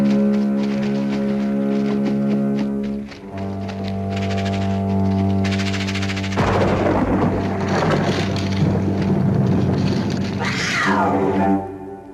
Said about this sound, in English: Just the cat.